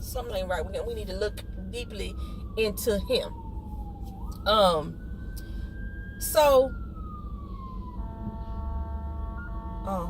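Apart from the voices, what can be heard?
fire truck siren going by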